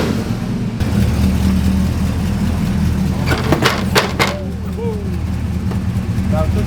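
A squatted truck on 50 inch tractor tires drives on its first run, with a loud steady engine drone throughout and a few brief sharp sounds midway.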